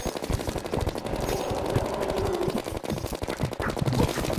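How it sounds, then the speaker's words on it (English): Rapid, dense bursts of fireballs fired at the player in Terraria during the Wall of Flesh fight, loud and continuous like machine-gun fire with no pauses. "What is firing those fireballs at us?"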